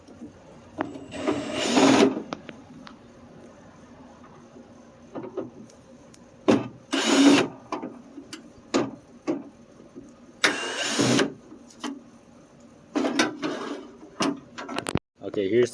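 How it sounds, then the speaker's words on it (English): A power drill backs Phillips screws out of a Honda Civic EG hatchback door, in several loud, close whirring bursts of a second or so, with short gaps and some speech between them. "you can grab your drill and then take out these Phillips right here"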